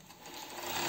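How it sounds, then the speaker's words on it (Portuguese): A sewing machine runs a straight stitch along the side seam of a bra. It gives a brief, steady whirring hum that builds slightly in loudness over about a second, close up. "Já vou dar uma costurinha na reta para eu poder já ficar com a minha base pronta"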